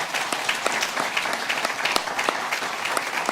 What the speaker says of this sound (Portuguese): eu gostaria de convidar os irmãos a uma salva de palmas por esse tempo precioso